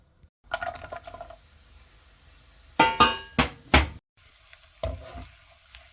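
Almonds, pistachios and nut kernels frying in a pan during halwa preparation, with bursts of sizzling and a few sharp clusters of stirring and clatter between quieter stretches.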